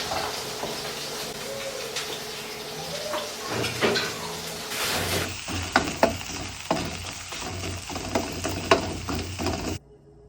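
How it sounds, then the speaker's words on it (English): Onions sizzle and fry in a stir fry pan, a steady hiss broken by scraping stirs; after a few seconds repeated sharp spatula knocks and scrapes pulse against the pan before the sizzle cuts off near the end. "I want to stir those onions a little bit first."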